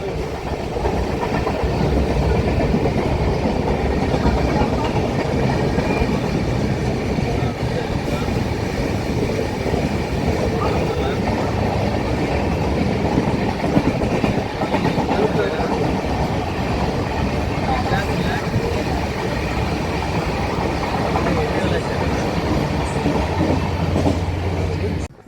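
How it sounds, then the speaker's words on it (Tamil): Cholan Superfast Express running from Chennai Egmore to Tiruchirappalli, a loud, continuous rail rumble with a steady clickety-clack of wheels on track throughout, heard from on or right beside the train. "சோழன் எக்ஸ்பிரஸ் தான்."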